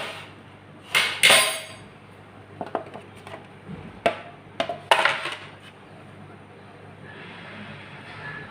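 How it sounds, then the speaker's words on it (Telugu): A knife trims the hard crusts off slices of bread on a board, giving a handful of sharp, close knocks and scrapes at irregular intervals in a quiet kitchen. "మనం ఫస్ట్ బ్రెడ్ తీసుకుని దానికి ఉన్న ఎడ్జెస్ కట్ చేసుకుందాం"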